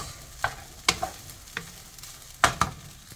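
A utensil scrapes and tosses shrimp fried rice seasoned with sugar in a hot pan, giving a few sharp, separated scraping strokes over a low sizzle, close and without talk.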